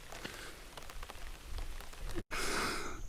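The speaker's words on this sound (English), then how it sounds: "It's just a beautiful time of year with this very pleasant drizzling rain." Light drizzling rain falls in a garden, a soft, steady patter and hiss of fine drops with scattered quiet taps, briefly cutting out before resuming slightly louder.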